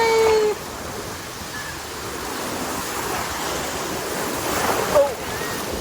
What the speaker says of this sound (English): We've got some decent sized waves.